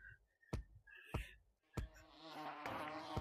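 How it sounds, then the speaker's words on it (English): Insect-like buzzing that swells and fades, broken by several sharp loud thumps, close and fairly quiet overall. "Bro, I hear the bees."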